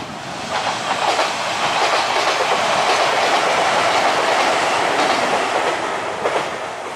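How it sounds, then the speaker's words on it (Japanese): An express train passes close by near a 7th-century round burial mound in Japan, a loud, sustained rolling roar with rhythmic wheel clatter that swells and holds across the whole stretch before easing slightly at the end. "はい、電車が通過します。"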